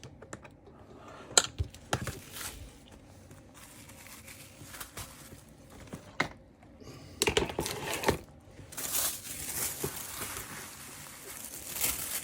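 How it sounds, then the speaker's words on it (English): A blade cuts through a stack of conditioned polymer clay layered in colour order, followed by deli paper sheets being laid on top, giving close, scattered clicks, taps and soft crinkling. "And I'm going to cut this probably into 3 parts."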